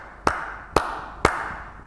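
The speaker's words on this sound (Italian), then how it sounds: "invece io applaudo" Three sharp, isolated hand claps spaced about half a second apart, each crisp and close with a short ringing decay, in an otherwise quiet room.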